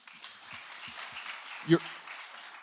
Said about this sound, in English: Let him clap, Toby. Let him clap.